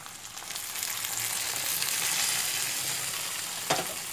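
Pork loin sauce with chile and plums sizzling and frying in a pan as orange juice is added, a steady close crackle that swells briefly near the end, with no talk.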